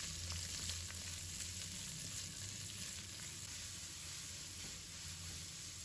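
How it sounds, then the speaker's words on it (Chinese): Shredded carrot and onion with minced garlic stir-fried in a hot wok: a steady, close sizzle and hiss running throughout with faint stirring, and no talk. "再把胡萝卜丝给倒入来，洋葱也加进来，把它炒断生"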